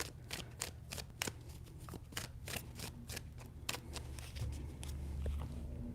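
Tarot cards are riffled and shuffled in a rapid run of crisp, papery snaps, close and steady throughout, with a low room hum underneath and no talking.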